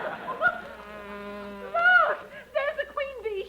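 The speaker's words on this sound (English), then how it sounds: "the queen bee. She just flew out when you opened the door." A queen bee buzzes as it flies out of an opened door indoors, a wavering, pitch-gliding drone that rises and falls in short bursts with brief pauses.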